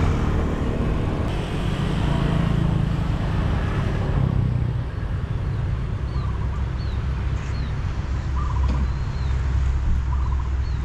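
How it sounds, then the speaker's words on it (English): Birds calling near a canal in Hua Hin, a few short chirps and whistles rising over steady outdoor ambience with a low engine rumble from passing traffic or a boat throughout. "There are some birds."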